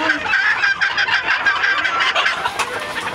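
Several chickens and a rooster cluck and cackle continuously nearby, overlapping calls forming a busy, steady chatter of a flock.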